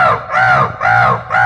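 A crow at the Keoladeo bird sanctuary in Bharatpur gives three loud, close, harsh caws in quick succession, each a drawn-out nasal call separated by brief pauses.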